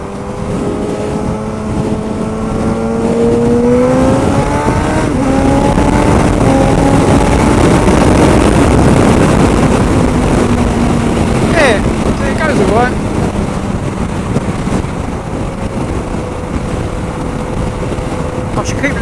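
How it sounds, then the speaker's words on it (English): Suzuki GSX-S1000 motorcycle exhaust while riding at around 5,000 revs, a steady engine drone rising in pitch as it accelerates, with heavy wind rush throughout. "We'll hear how the exhaust sounds in a minute"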